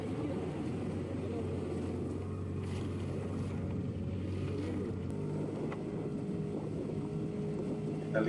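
Fishing boat circling during a beach seine (pukat pantai) operation, a continuous low engine drone with wind noise, steady and moderately close throughout.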